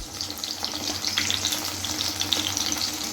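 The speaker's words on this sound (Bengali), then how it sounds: "আমার সর্ষের তেল দিয়ে ভাজছি, সাদা তেলটা নেই, তো সেই কারণে সর্ষের তেল দিয়ে ভাজছি।" Chicken pakora frying in mustard oil, a steady, close crackling sizzle with small pops that runs unbroken throughout.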